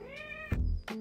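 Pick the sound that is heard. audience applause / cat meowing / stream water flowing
cat meowing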